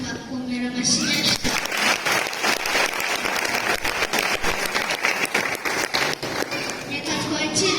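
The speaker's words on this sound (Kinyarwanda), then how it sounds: "Murakoze cyane ababyeyi mwafasha tukakumira amashyi." Applause from a church audience of parents, a dense, continuous patter of many hands clapping that swells in quickly and holds steady for several seconds.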